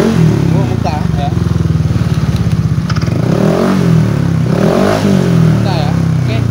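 A car engine being revved while radiator water spurts out, the revving loud and close with a clattery edge, and someone talks over it.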